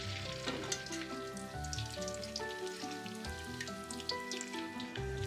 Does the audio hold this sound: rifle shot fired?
no